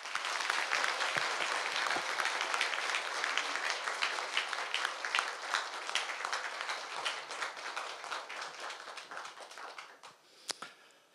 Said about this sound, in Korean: 그 어느 때보다도 힘찬 박수로 모셔주십시오.